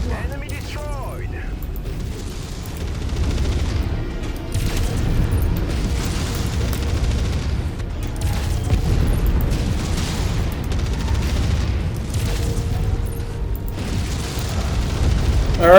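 Enemy mech blowing apart in MechWarrior 5: Mercenaries, heavy rumbling booms and bursts rolling continuously over a dense low battle din, with mechanical clanks layered in.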